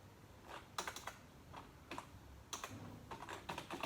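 Someone types an Oracle SQL grant command on a computer keyboard, with quiet, close key clicks in short uneven bursts and brief pauses between them.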